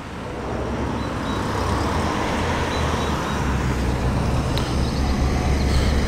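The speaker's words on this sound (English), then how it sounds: "Hotly pursued by an MGB GT, another V8, fantastic." A V8-powered MGB GT drives past at a Cars & Caffeine meet at Combermere, heard as a steady broad engine and road rumble that stays fairly constant, moderately loud amid general outdoor noise, with no speech.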